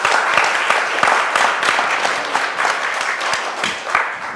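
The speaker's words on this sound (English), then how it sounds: "I wish you'd join me in giving him another round of applause" Audience applause at a Martin Luther King, Jr. commemoration event in Arkansas, a full, steady round of clapping from a crowd in a hall.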